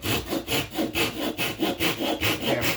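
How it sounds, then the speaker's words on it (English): A hand saw cuts through wood in steady back-and-forth strokes, about three rasping strokes per second, close and fairly loud. "get your saw on the line."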